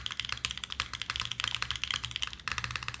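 Rapid typing on a mechanical keyboard with a GMK keycap on the spacebar, a steady run of crisp, close clacks with a brief pause near the end, no voices.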